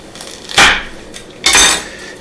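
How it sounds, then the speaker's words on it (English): A knife cuts the ends off an onion and halves it, giving two sharp, loud blade strikes on a board about a second apart, close by and with no voice. "I'm going to cut the ends off an onion, and I'm going to cut it in half"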